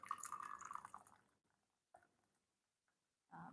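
Steeped Chinese wild black tea poured out of a small vessel, a short trickling splash that tapers off, followed by quiet and a few faint drips and clinks.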